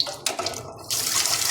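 Water gushes from a tap in a steady hiss, briefly cut off then turned back on strongly.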